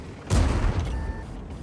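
A tank gun fires in World of Tanks with one loud booming blast, followed by a rumbling tail that slowly decays.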